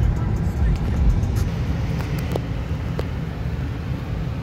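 A 2008 Ford Mustang GT500 and a Mercedes C43 AMG with an aftermarket turbo drive on a road, a steady low engine and road rumble heard from inside a car, with people talking over it.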